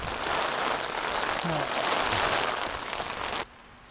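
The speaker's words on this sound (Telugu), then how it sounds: "ఇప్పుడు వర్షం వస్తుంది" Rain falls in a dense, steady hiss that patters on nearby surfaces and then cuts off abruptly near the end.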